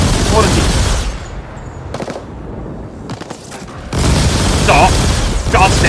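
Gunfire in the cyberpunk shooter game The Ascent, loud, dense bursts filling most of the stretch, with a quieter gap in the middle before heavy shooting resumes, and a voice talking under it.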